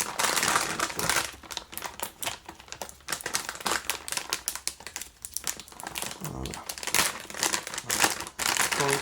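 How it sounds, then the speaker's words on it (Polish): Anti-static foil wrapping a new Asus RTX 3060 12GB graphics card crinkles and crackles loudly and continuously up close, with sharp irregular rustles throughout. "Folia antyelektrostatyczna."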